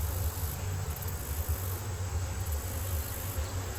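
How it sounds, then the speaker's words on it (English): Dense, steady drone of honey bees clustered on a hive frame set on the ground, a continuous low buzzing close by with no one talking. "Look at all of these bees. This is the frame I put on the ground. They're all clustered in there,"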